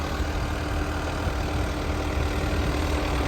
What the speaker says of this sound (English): we got here a New Holland B75B backhoe with the front end loader